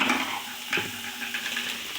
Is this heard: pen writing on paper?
no